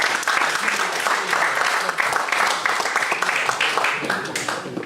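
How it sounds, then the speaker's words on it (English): Steady, fairly loud applause from a cricket club awards ceremony crowd fills the room, many hands clapping densely throughout with faint voices mixed in. "Let's give him a round of applause anyway"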